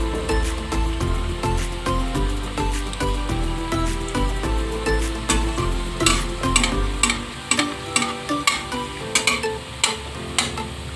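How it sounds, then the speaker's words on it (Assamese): Snacks frying over a low flame in hot refined oil, a steady sizzle with soft crackling bursts that grow more distinct and spaced out toward the end. "কম জুইত অলপ ৰঙা হোৱাকৈ ভাজি ল'ম।"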